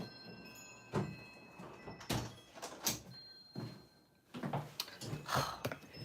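Knocks and thuds of a door being opened and closed at a studio, several sharp impacts spread over a few seconds with quiet gaps between them, fairly close and without talk.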